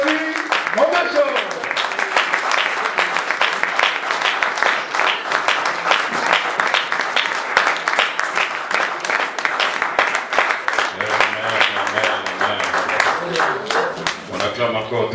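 Congregation at a wedding applauding loudly and continuously in a church, a dense, sustained wash of clapping with voices mixed in throughout.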